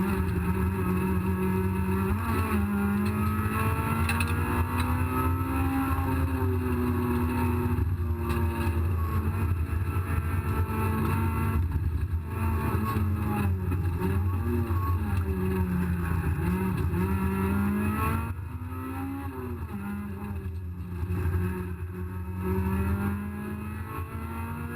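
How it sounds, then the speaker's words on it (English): Race car engine at Cadwell Park revving hard and continuously from inside the car, a loud high-pitched howl rising and falling through gear changes and corners, easing slightly near the end. "the engine's just got to rev its nuts off all the time."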